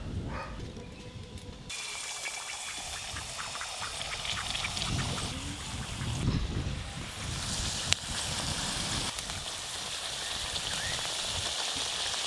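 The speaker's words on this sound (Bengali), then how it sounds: "এই পাপড়িগুলো কিন্তু একদম হালকা গরম তেলে ভাজতে হবে" Papri dough crisps frying in mildly hot oil for papri chaat, a steady loud bubbling sizzle heard up close throughout, with one sharp click partway and no talking.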